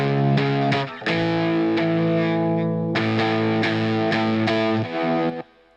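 Distorted electric guitar with chorus-like effects in a music mix, playing loud sustained chords with sharp plucked attacks, a short break near the start and a fade at the end.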